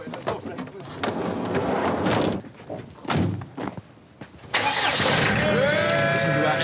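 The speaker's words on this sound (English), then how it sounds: "Listen to that engine" Car heard from close by: a few thuds like doors or bodywork, with people talking, then the engine cranks, catches and runs at a loud, steady idle until the end.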